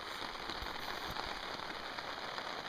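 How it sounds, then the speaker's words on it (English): Rain falls on a tent at a lake campsite, a dense, steady patter of drops close overhead, continuous and even for the whole stretch with no voices. "It's raining."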